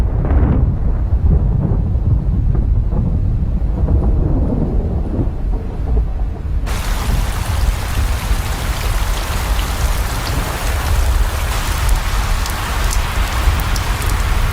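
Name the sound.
thunderstorm with first rains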